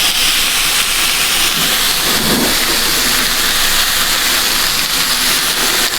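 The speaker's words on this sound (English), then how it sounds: "The sizzle from a cast iron skillet is one of my favorite sounds when it comes to cooking." A loud, continuous sizzling hiss fills the air, steady and close, as steak sears in a hot cast iron skillet.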